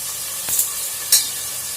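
Tomatoes sauté in a pan for an egg curry, a soft continuous sizzle punctuated by two quick bright hissing bursts as the pieces are stirred.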